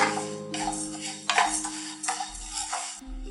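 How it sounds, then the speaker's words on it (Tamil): Moong dal being dry-roasted in a kadai on a low flame: light scraping and clinks of a metal spoon against the pan in short irregular bursts, close and fairly quiet, with no voices. "பாசிப்பருப்பு போட்டுக்கலாம். இதை வந்து சிம்மில் வச்சுட்டு நல்லா பொன்னிறமாக வறுத்துக்கலாம்."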